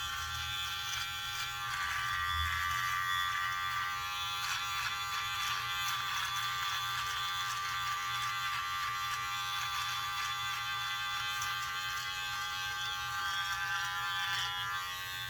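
A Wahl Wet & Dry electric shaver buzzes steadily and close up throughout, a continuous whine running while shaving, with no talk.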